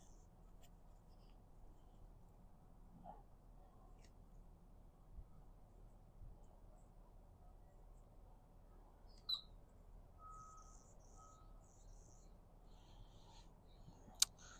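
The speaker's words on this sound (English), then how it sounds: "I got birds talking to me." Faint birdsong outdoors: a few soft, scattered chirps at a distance, most of them clustered toward the end over a quiet, steady background.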